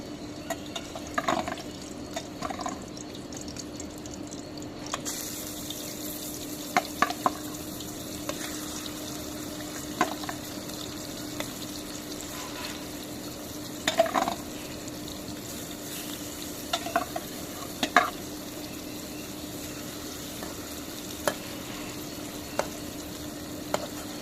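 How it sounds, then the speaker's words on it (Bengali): Fish fries in a pan with a soft, continuous sizzle, broken by faint clinks and taps from a utensil at irregular intervals. "এখন মাছটা বেজে নিব মাছ দিয়ে দিলাম"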